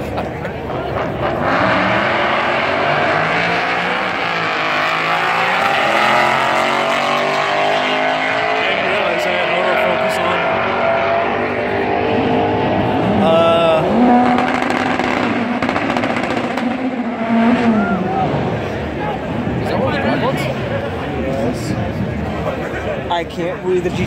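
Race cars, including a Nissan GT-R, roar past on a drag strip at a loud, continuous engine howl that rises and falls as they go by, with spectators talking over it.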